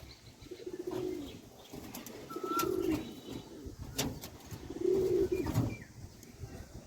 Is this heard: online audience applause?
no